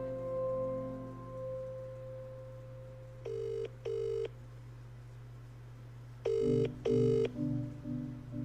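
A telephone rings in two pairs of short electronic trills, one pair midway and a louder pair near the end, over a steady background hum of music.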